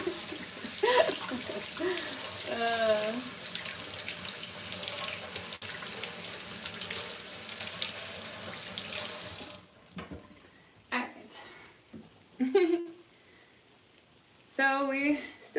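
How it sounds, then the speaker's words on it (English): Running water from a kitchen sink faucet splashes steadily while hands are rinsed of zucchini breading, then cuts off into short intermittent bursts; a voice speaks briefly over the water at the start and end. "I gotta wash my hands because I got a little too much breading on them"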